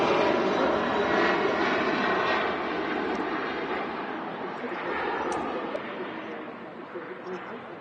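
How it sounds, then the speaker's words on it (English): At Manchester Airport an Embraer airliner roars steadily on departure, a broad, loud engine rush that slowly fades, with faint voices underneath. "There goes the Embraer, heading back to Lisbon."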